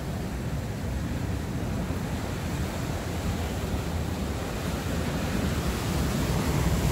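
Ocean waves surging and breaking against a rocky shore at a fishing spot, a steady loud roar of surf with wind noise running throughout, no voices.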